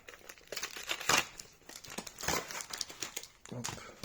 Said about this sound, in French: j'arrache les paquets à l'ancienne